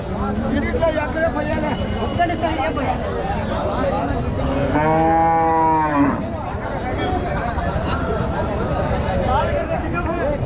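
Cattle moo loudly at a busy livestock market where horns have been cut, one long harmonic call rising over steady crowd chatter and voices.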